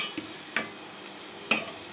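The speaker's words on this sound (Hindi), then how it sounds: "और इसको 2 मिनट तकरीबन भून लेते हैं।" Moong and mash dal roast in a pan, with a faint dry hiss broken by a few sharp clinks and scrapes of a utensil against the pan, spaced irregularly and heard without voices.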